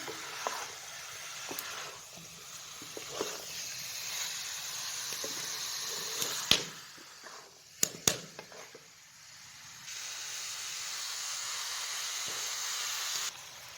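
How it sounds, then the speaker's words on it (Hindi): Mixed vegetables cooking in a pan for a masaledar restaurant-style sabzi, giving a steady soft sizzle and hiss with a few sharp clicks and scrapes, moderately quiet and continuous throughout with no talking. "अब हम इन्हें अच्छी तरह से कुक करेंगे 3 मिनट के लिए।"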